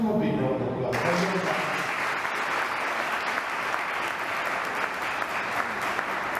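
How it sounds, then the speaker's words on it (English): An audience at a community forum on fighting Ebola breaks into sustained applause, a broad, steady wash of many hands clapping that continues throughout, fairly distant and even. "Give him a big round of applause."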